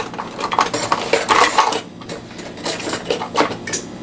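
Metal cutlery clinks and rattles as a fork is picked up among spoons while cornmeal biscuits are being made, with a run of close, bright, irregular clatters and scrapes that has a brief lull midway.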